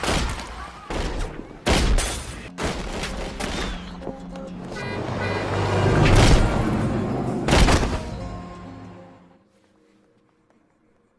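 A film shootout has loud, sharp gunshots cracking in irregular bursts over a rumbling action score, building to a heavier boom before everything fades into near silence.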